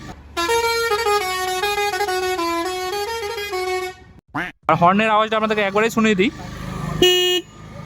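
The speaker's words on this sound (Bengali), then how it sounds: "হর্নের আওয়াজটা আপনাদেরকে একবারেই শুনিয়ে দিই" A loud, steady two-tone horn of a Hero Karizma XMR 210 motorcycle blares for about four seconds, then breaks off. Short bursts of talk follow, and a brief honk sounds near the end.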